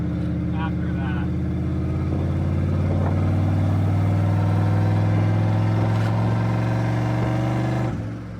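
Turbocharged DOHC Ford F250 pickup engine pulls hard under boost, a loud steady drone with rising pitch that builds through the run and eases off at the end; no talking.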